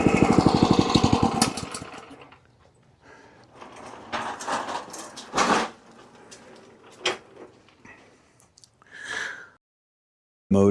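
A McLane reel lawn mower's small engine runs loudly at the start, then cuts off, leaving scattered clunks, rattles and handling noises as the machine is moved, with no speech.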